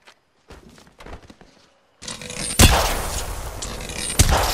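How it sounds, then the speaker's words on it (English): Enemy gunfire in the battle royale game Apex Legends: a few faint sparse thumps first, then a sudden loud burst of shots opening into a sustained roar of rapid fire with a second sharp crack near the end. "The enemies are shooting at me."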